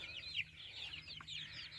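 Chickens inside a homemade chicken tractor built from free materials keep up a steady run of soft clucks and chirpy calls, fairly faint and continuous, with no one talking.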